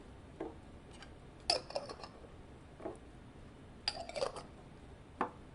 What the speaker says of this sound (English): we're going to shake the jars to mix the oil and the food coloring together